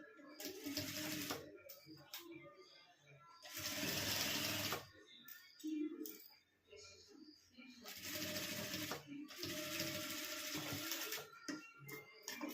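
An electric sewing machine stitching lining fabric onto a blouse piece: several bursts of fast, whirring stitching, near and steady, alternating with pauses where someone talks.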